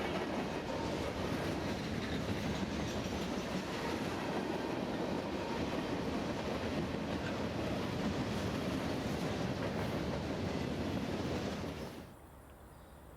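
A freight train led by an ex-Santa Fe Warbonnet locomotive rolls past, a steady loud roar with clattering wheels on rails that holds throughout and then drops away sharply near the end.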